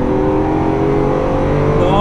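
A 750 HP Lamborghini engine revs on a downshift to third, a loud, close, sustained roar whose pitch climbs steadily while driving on a straight road.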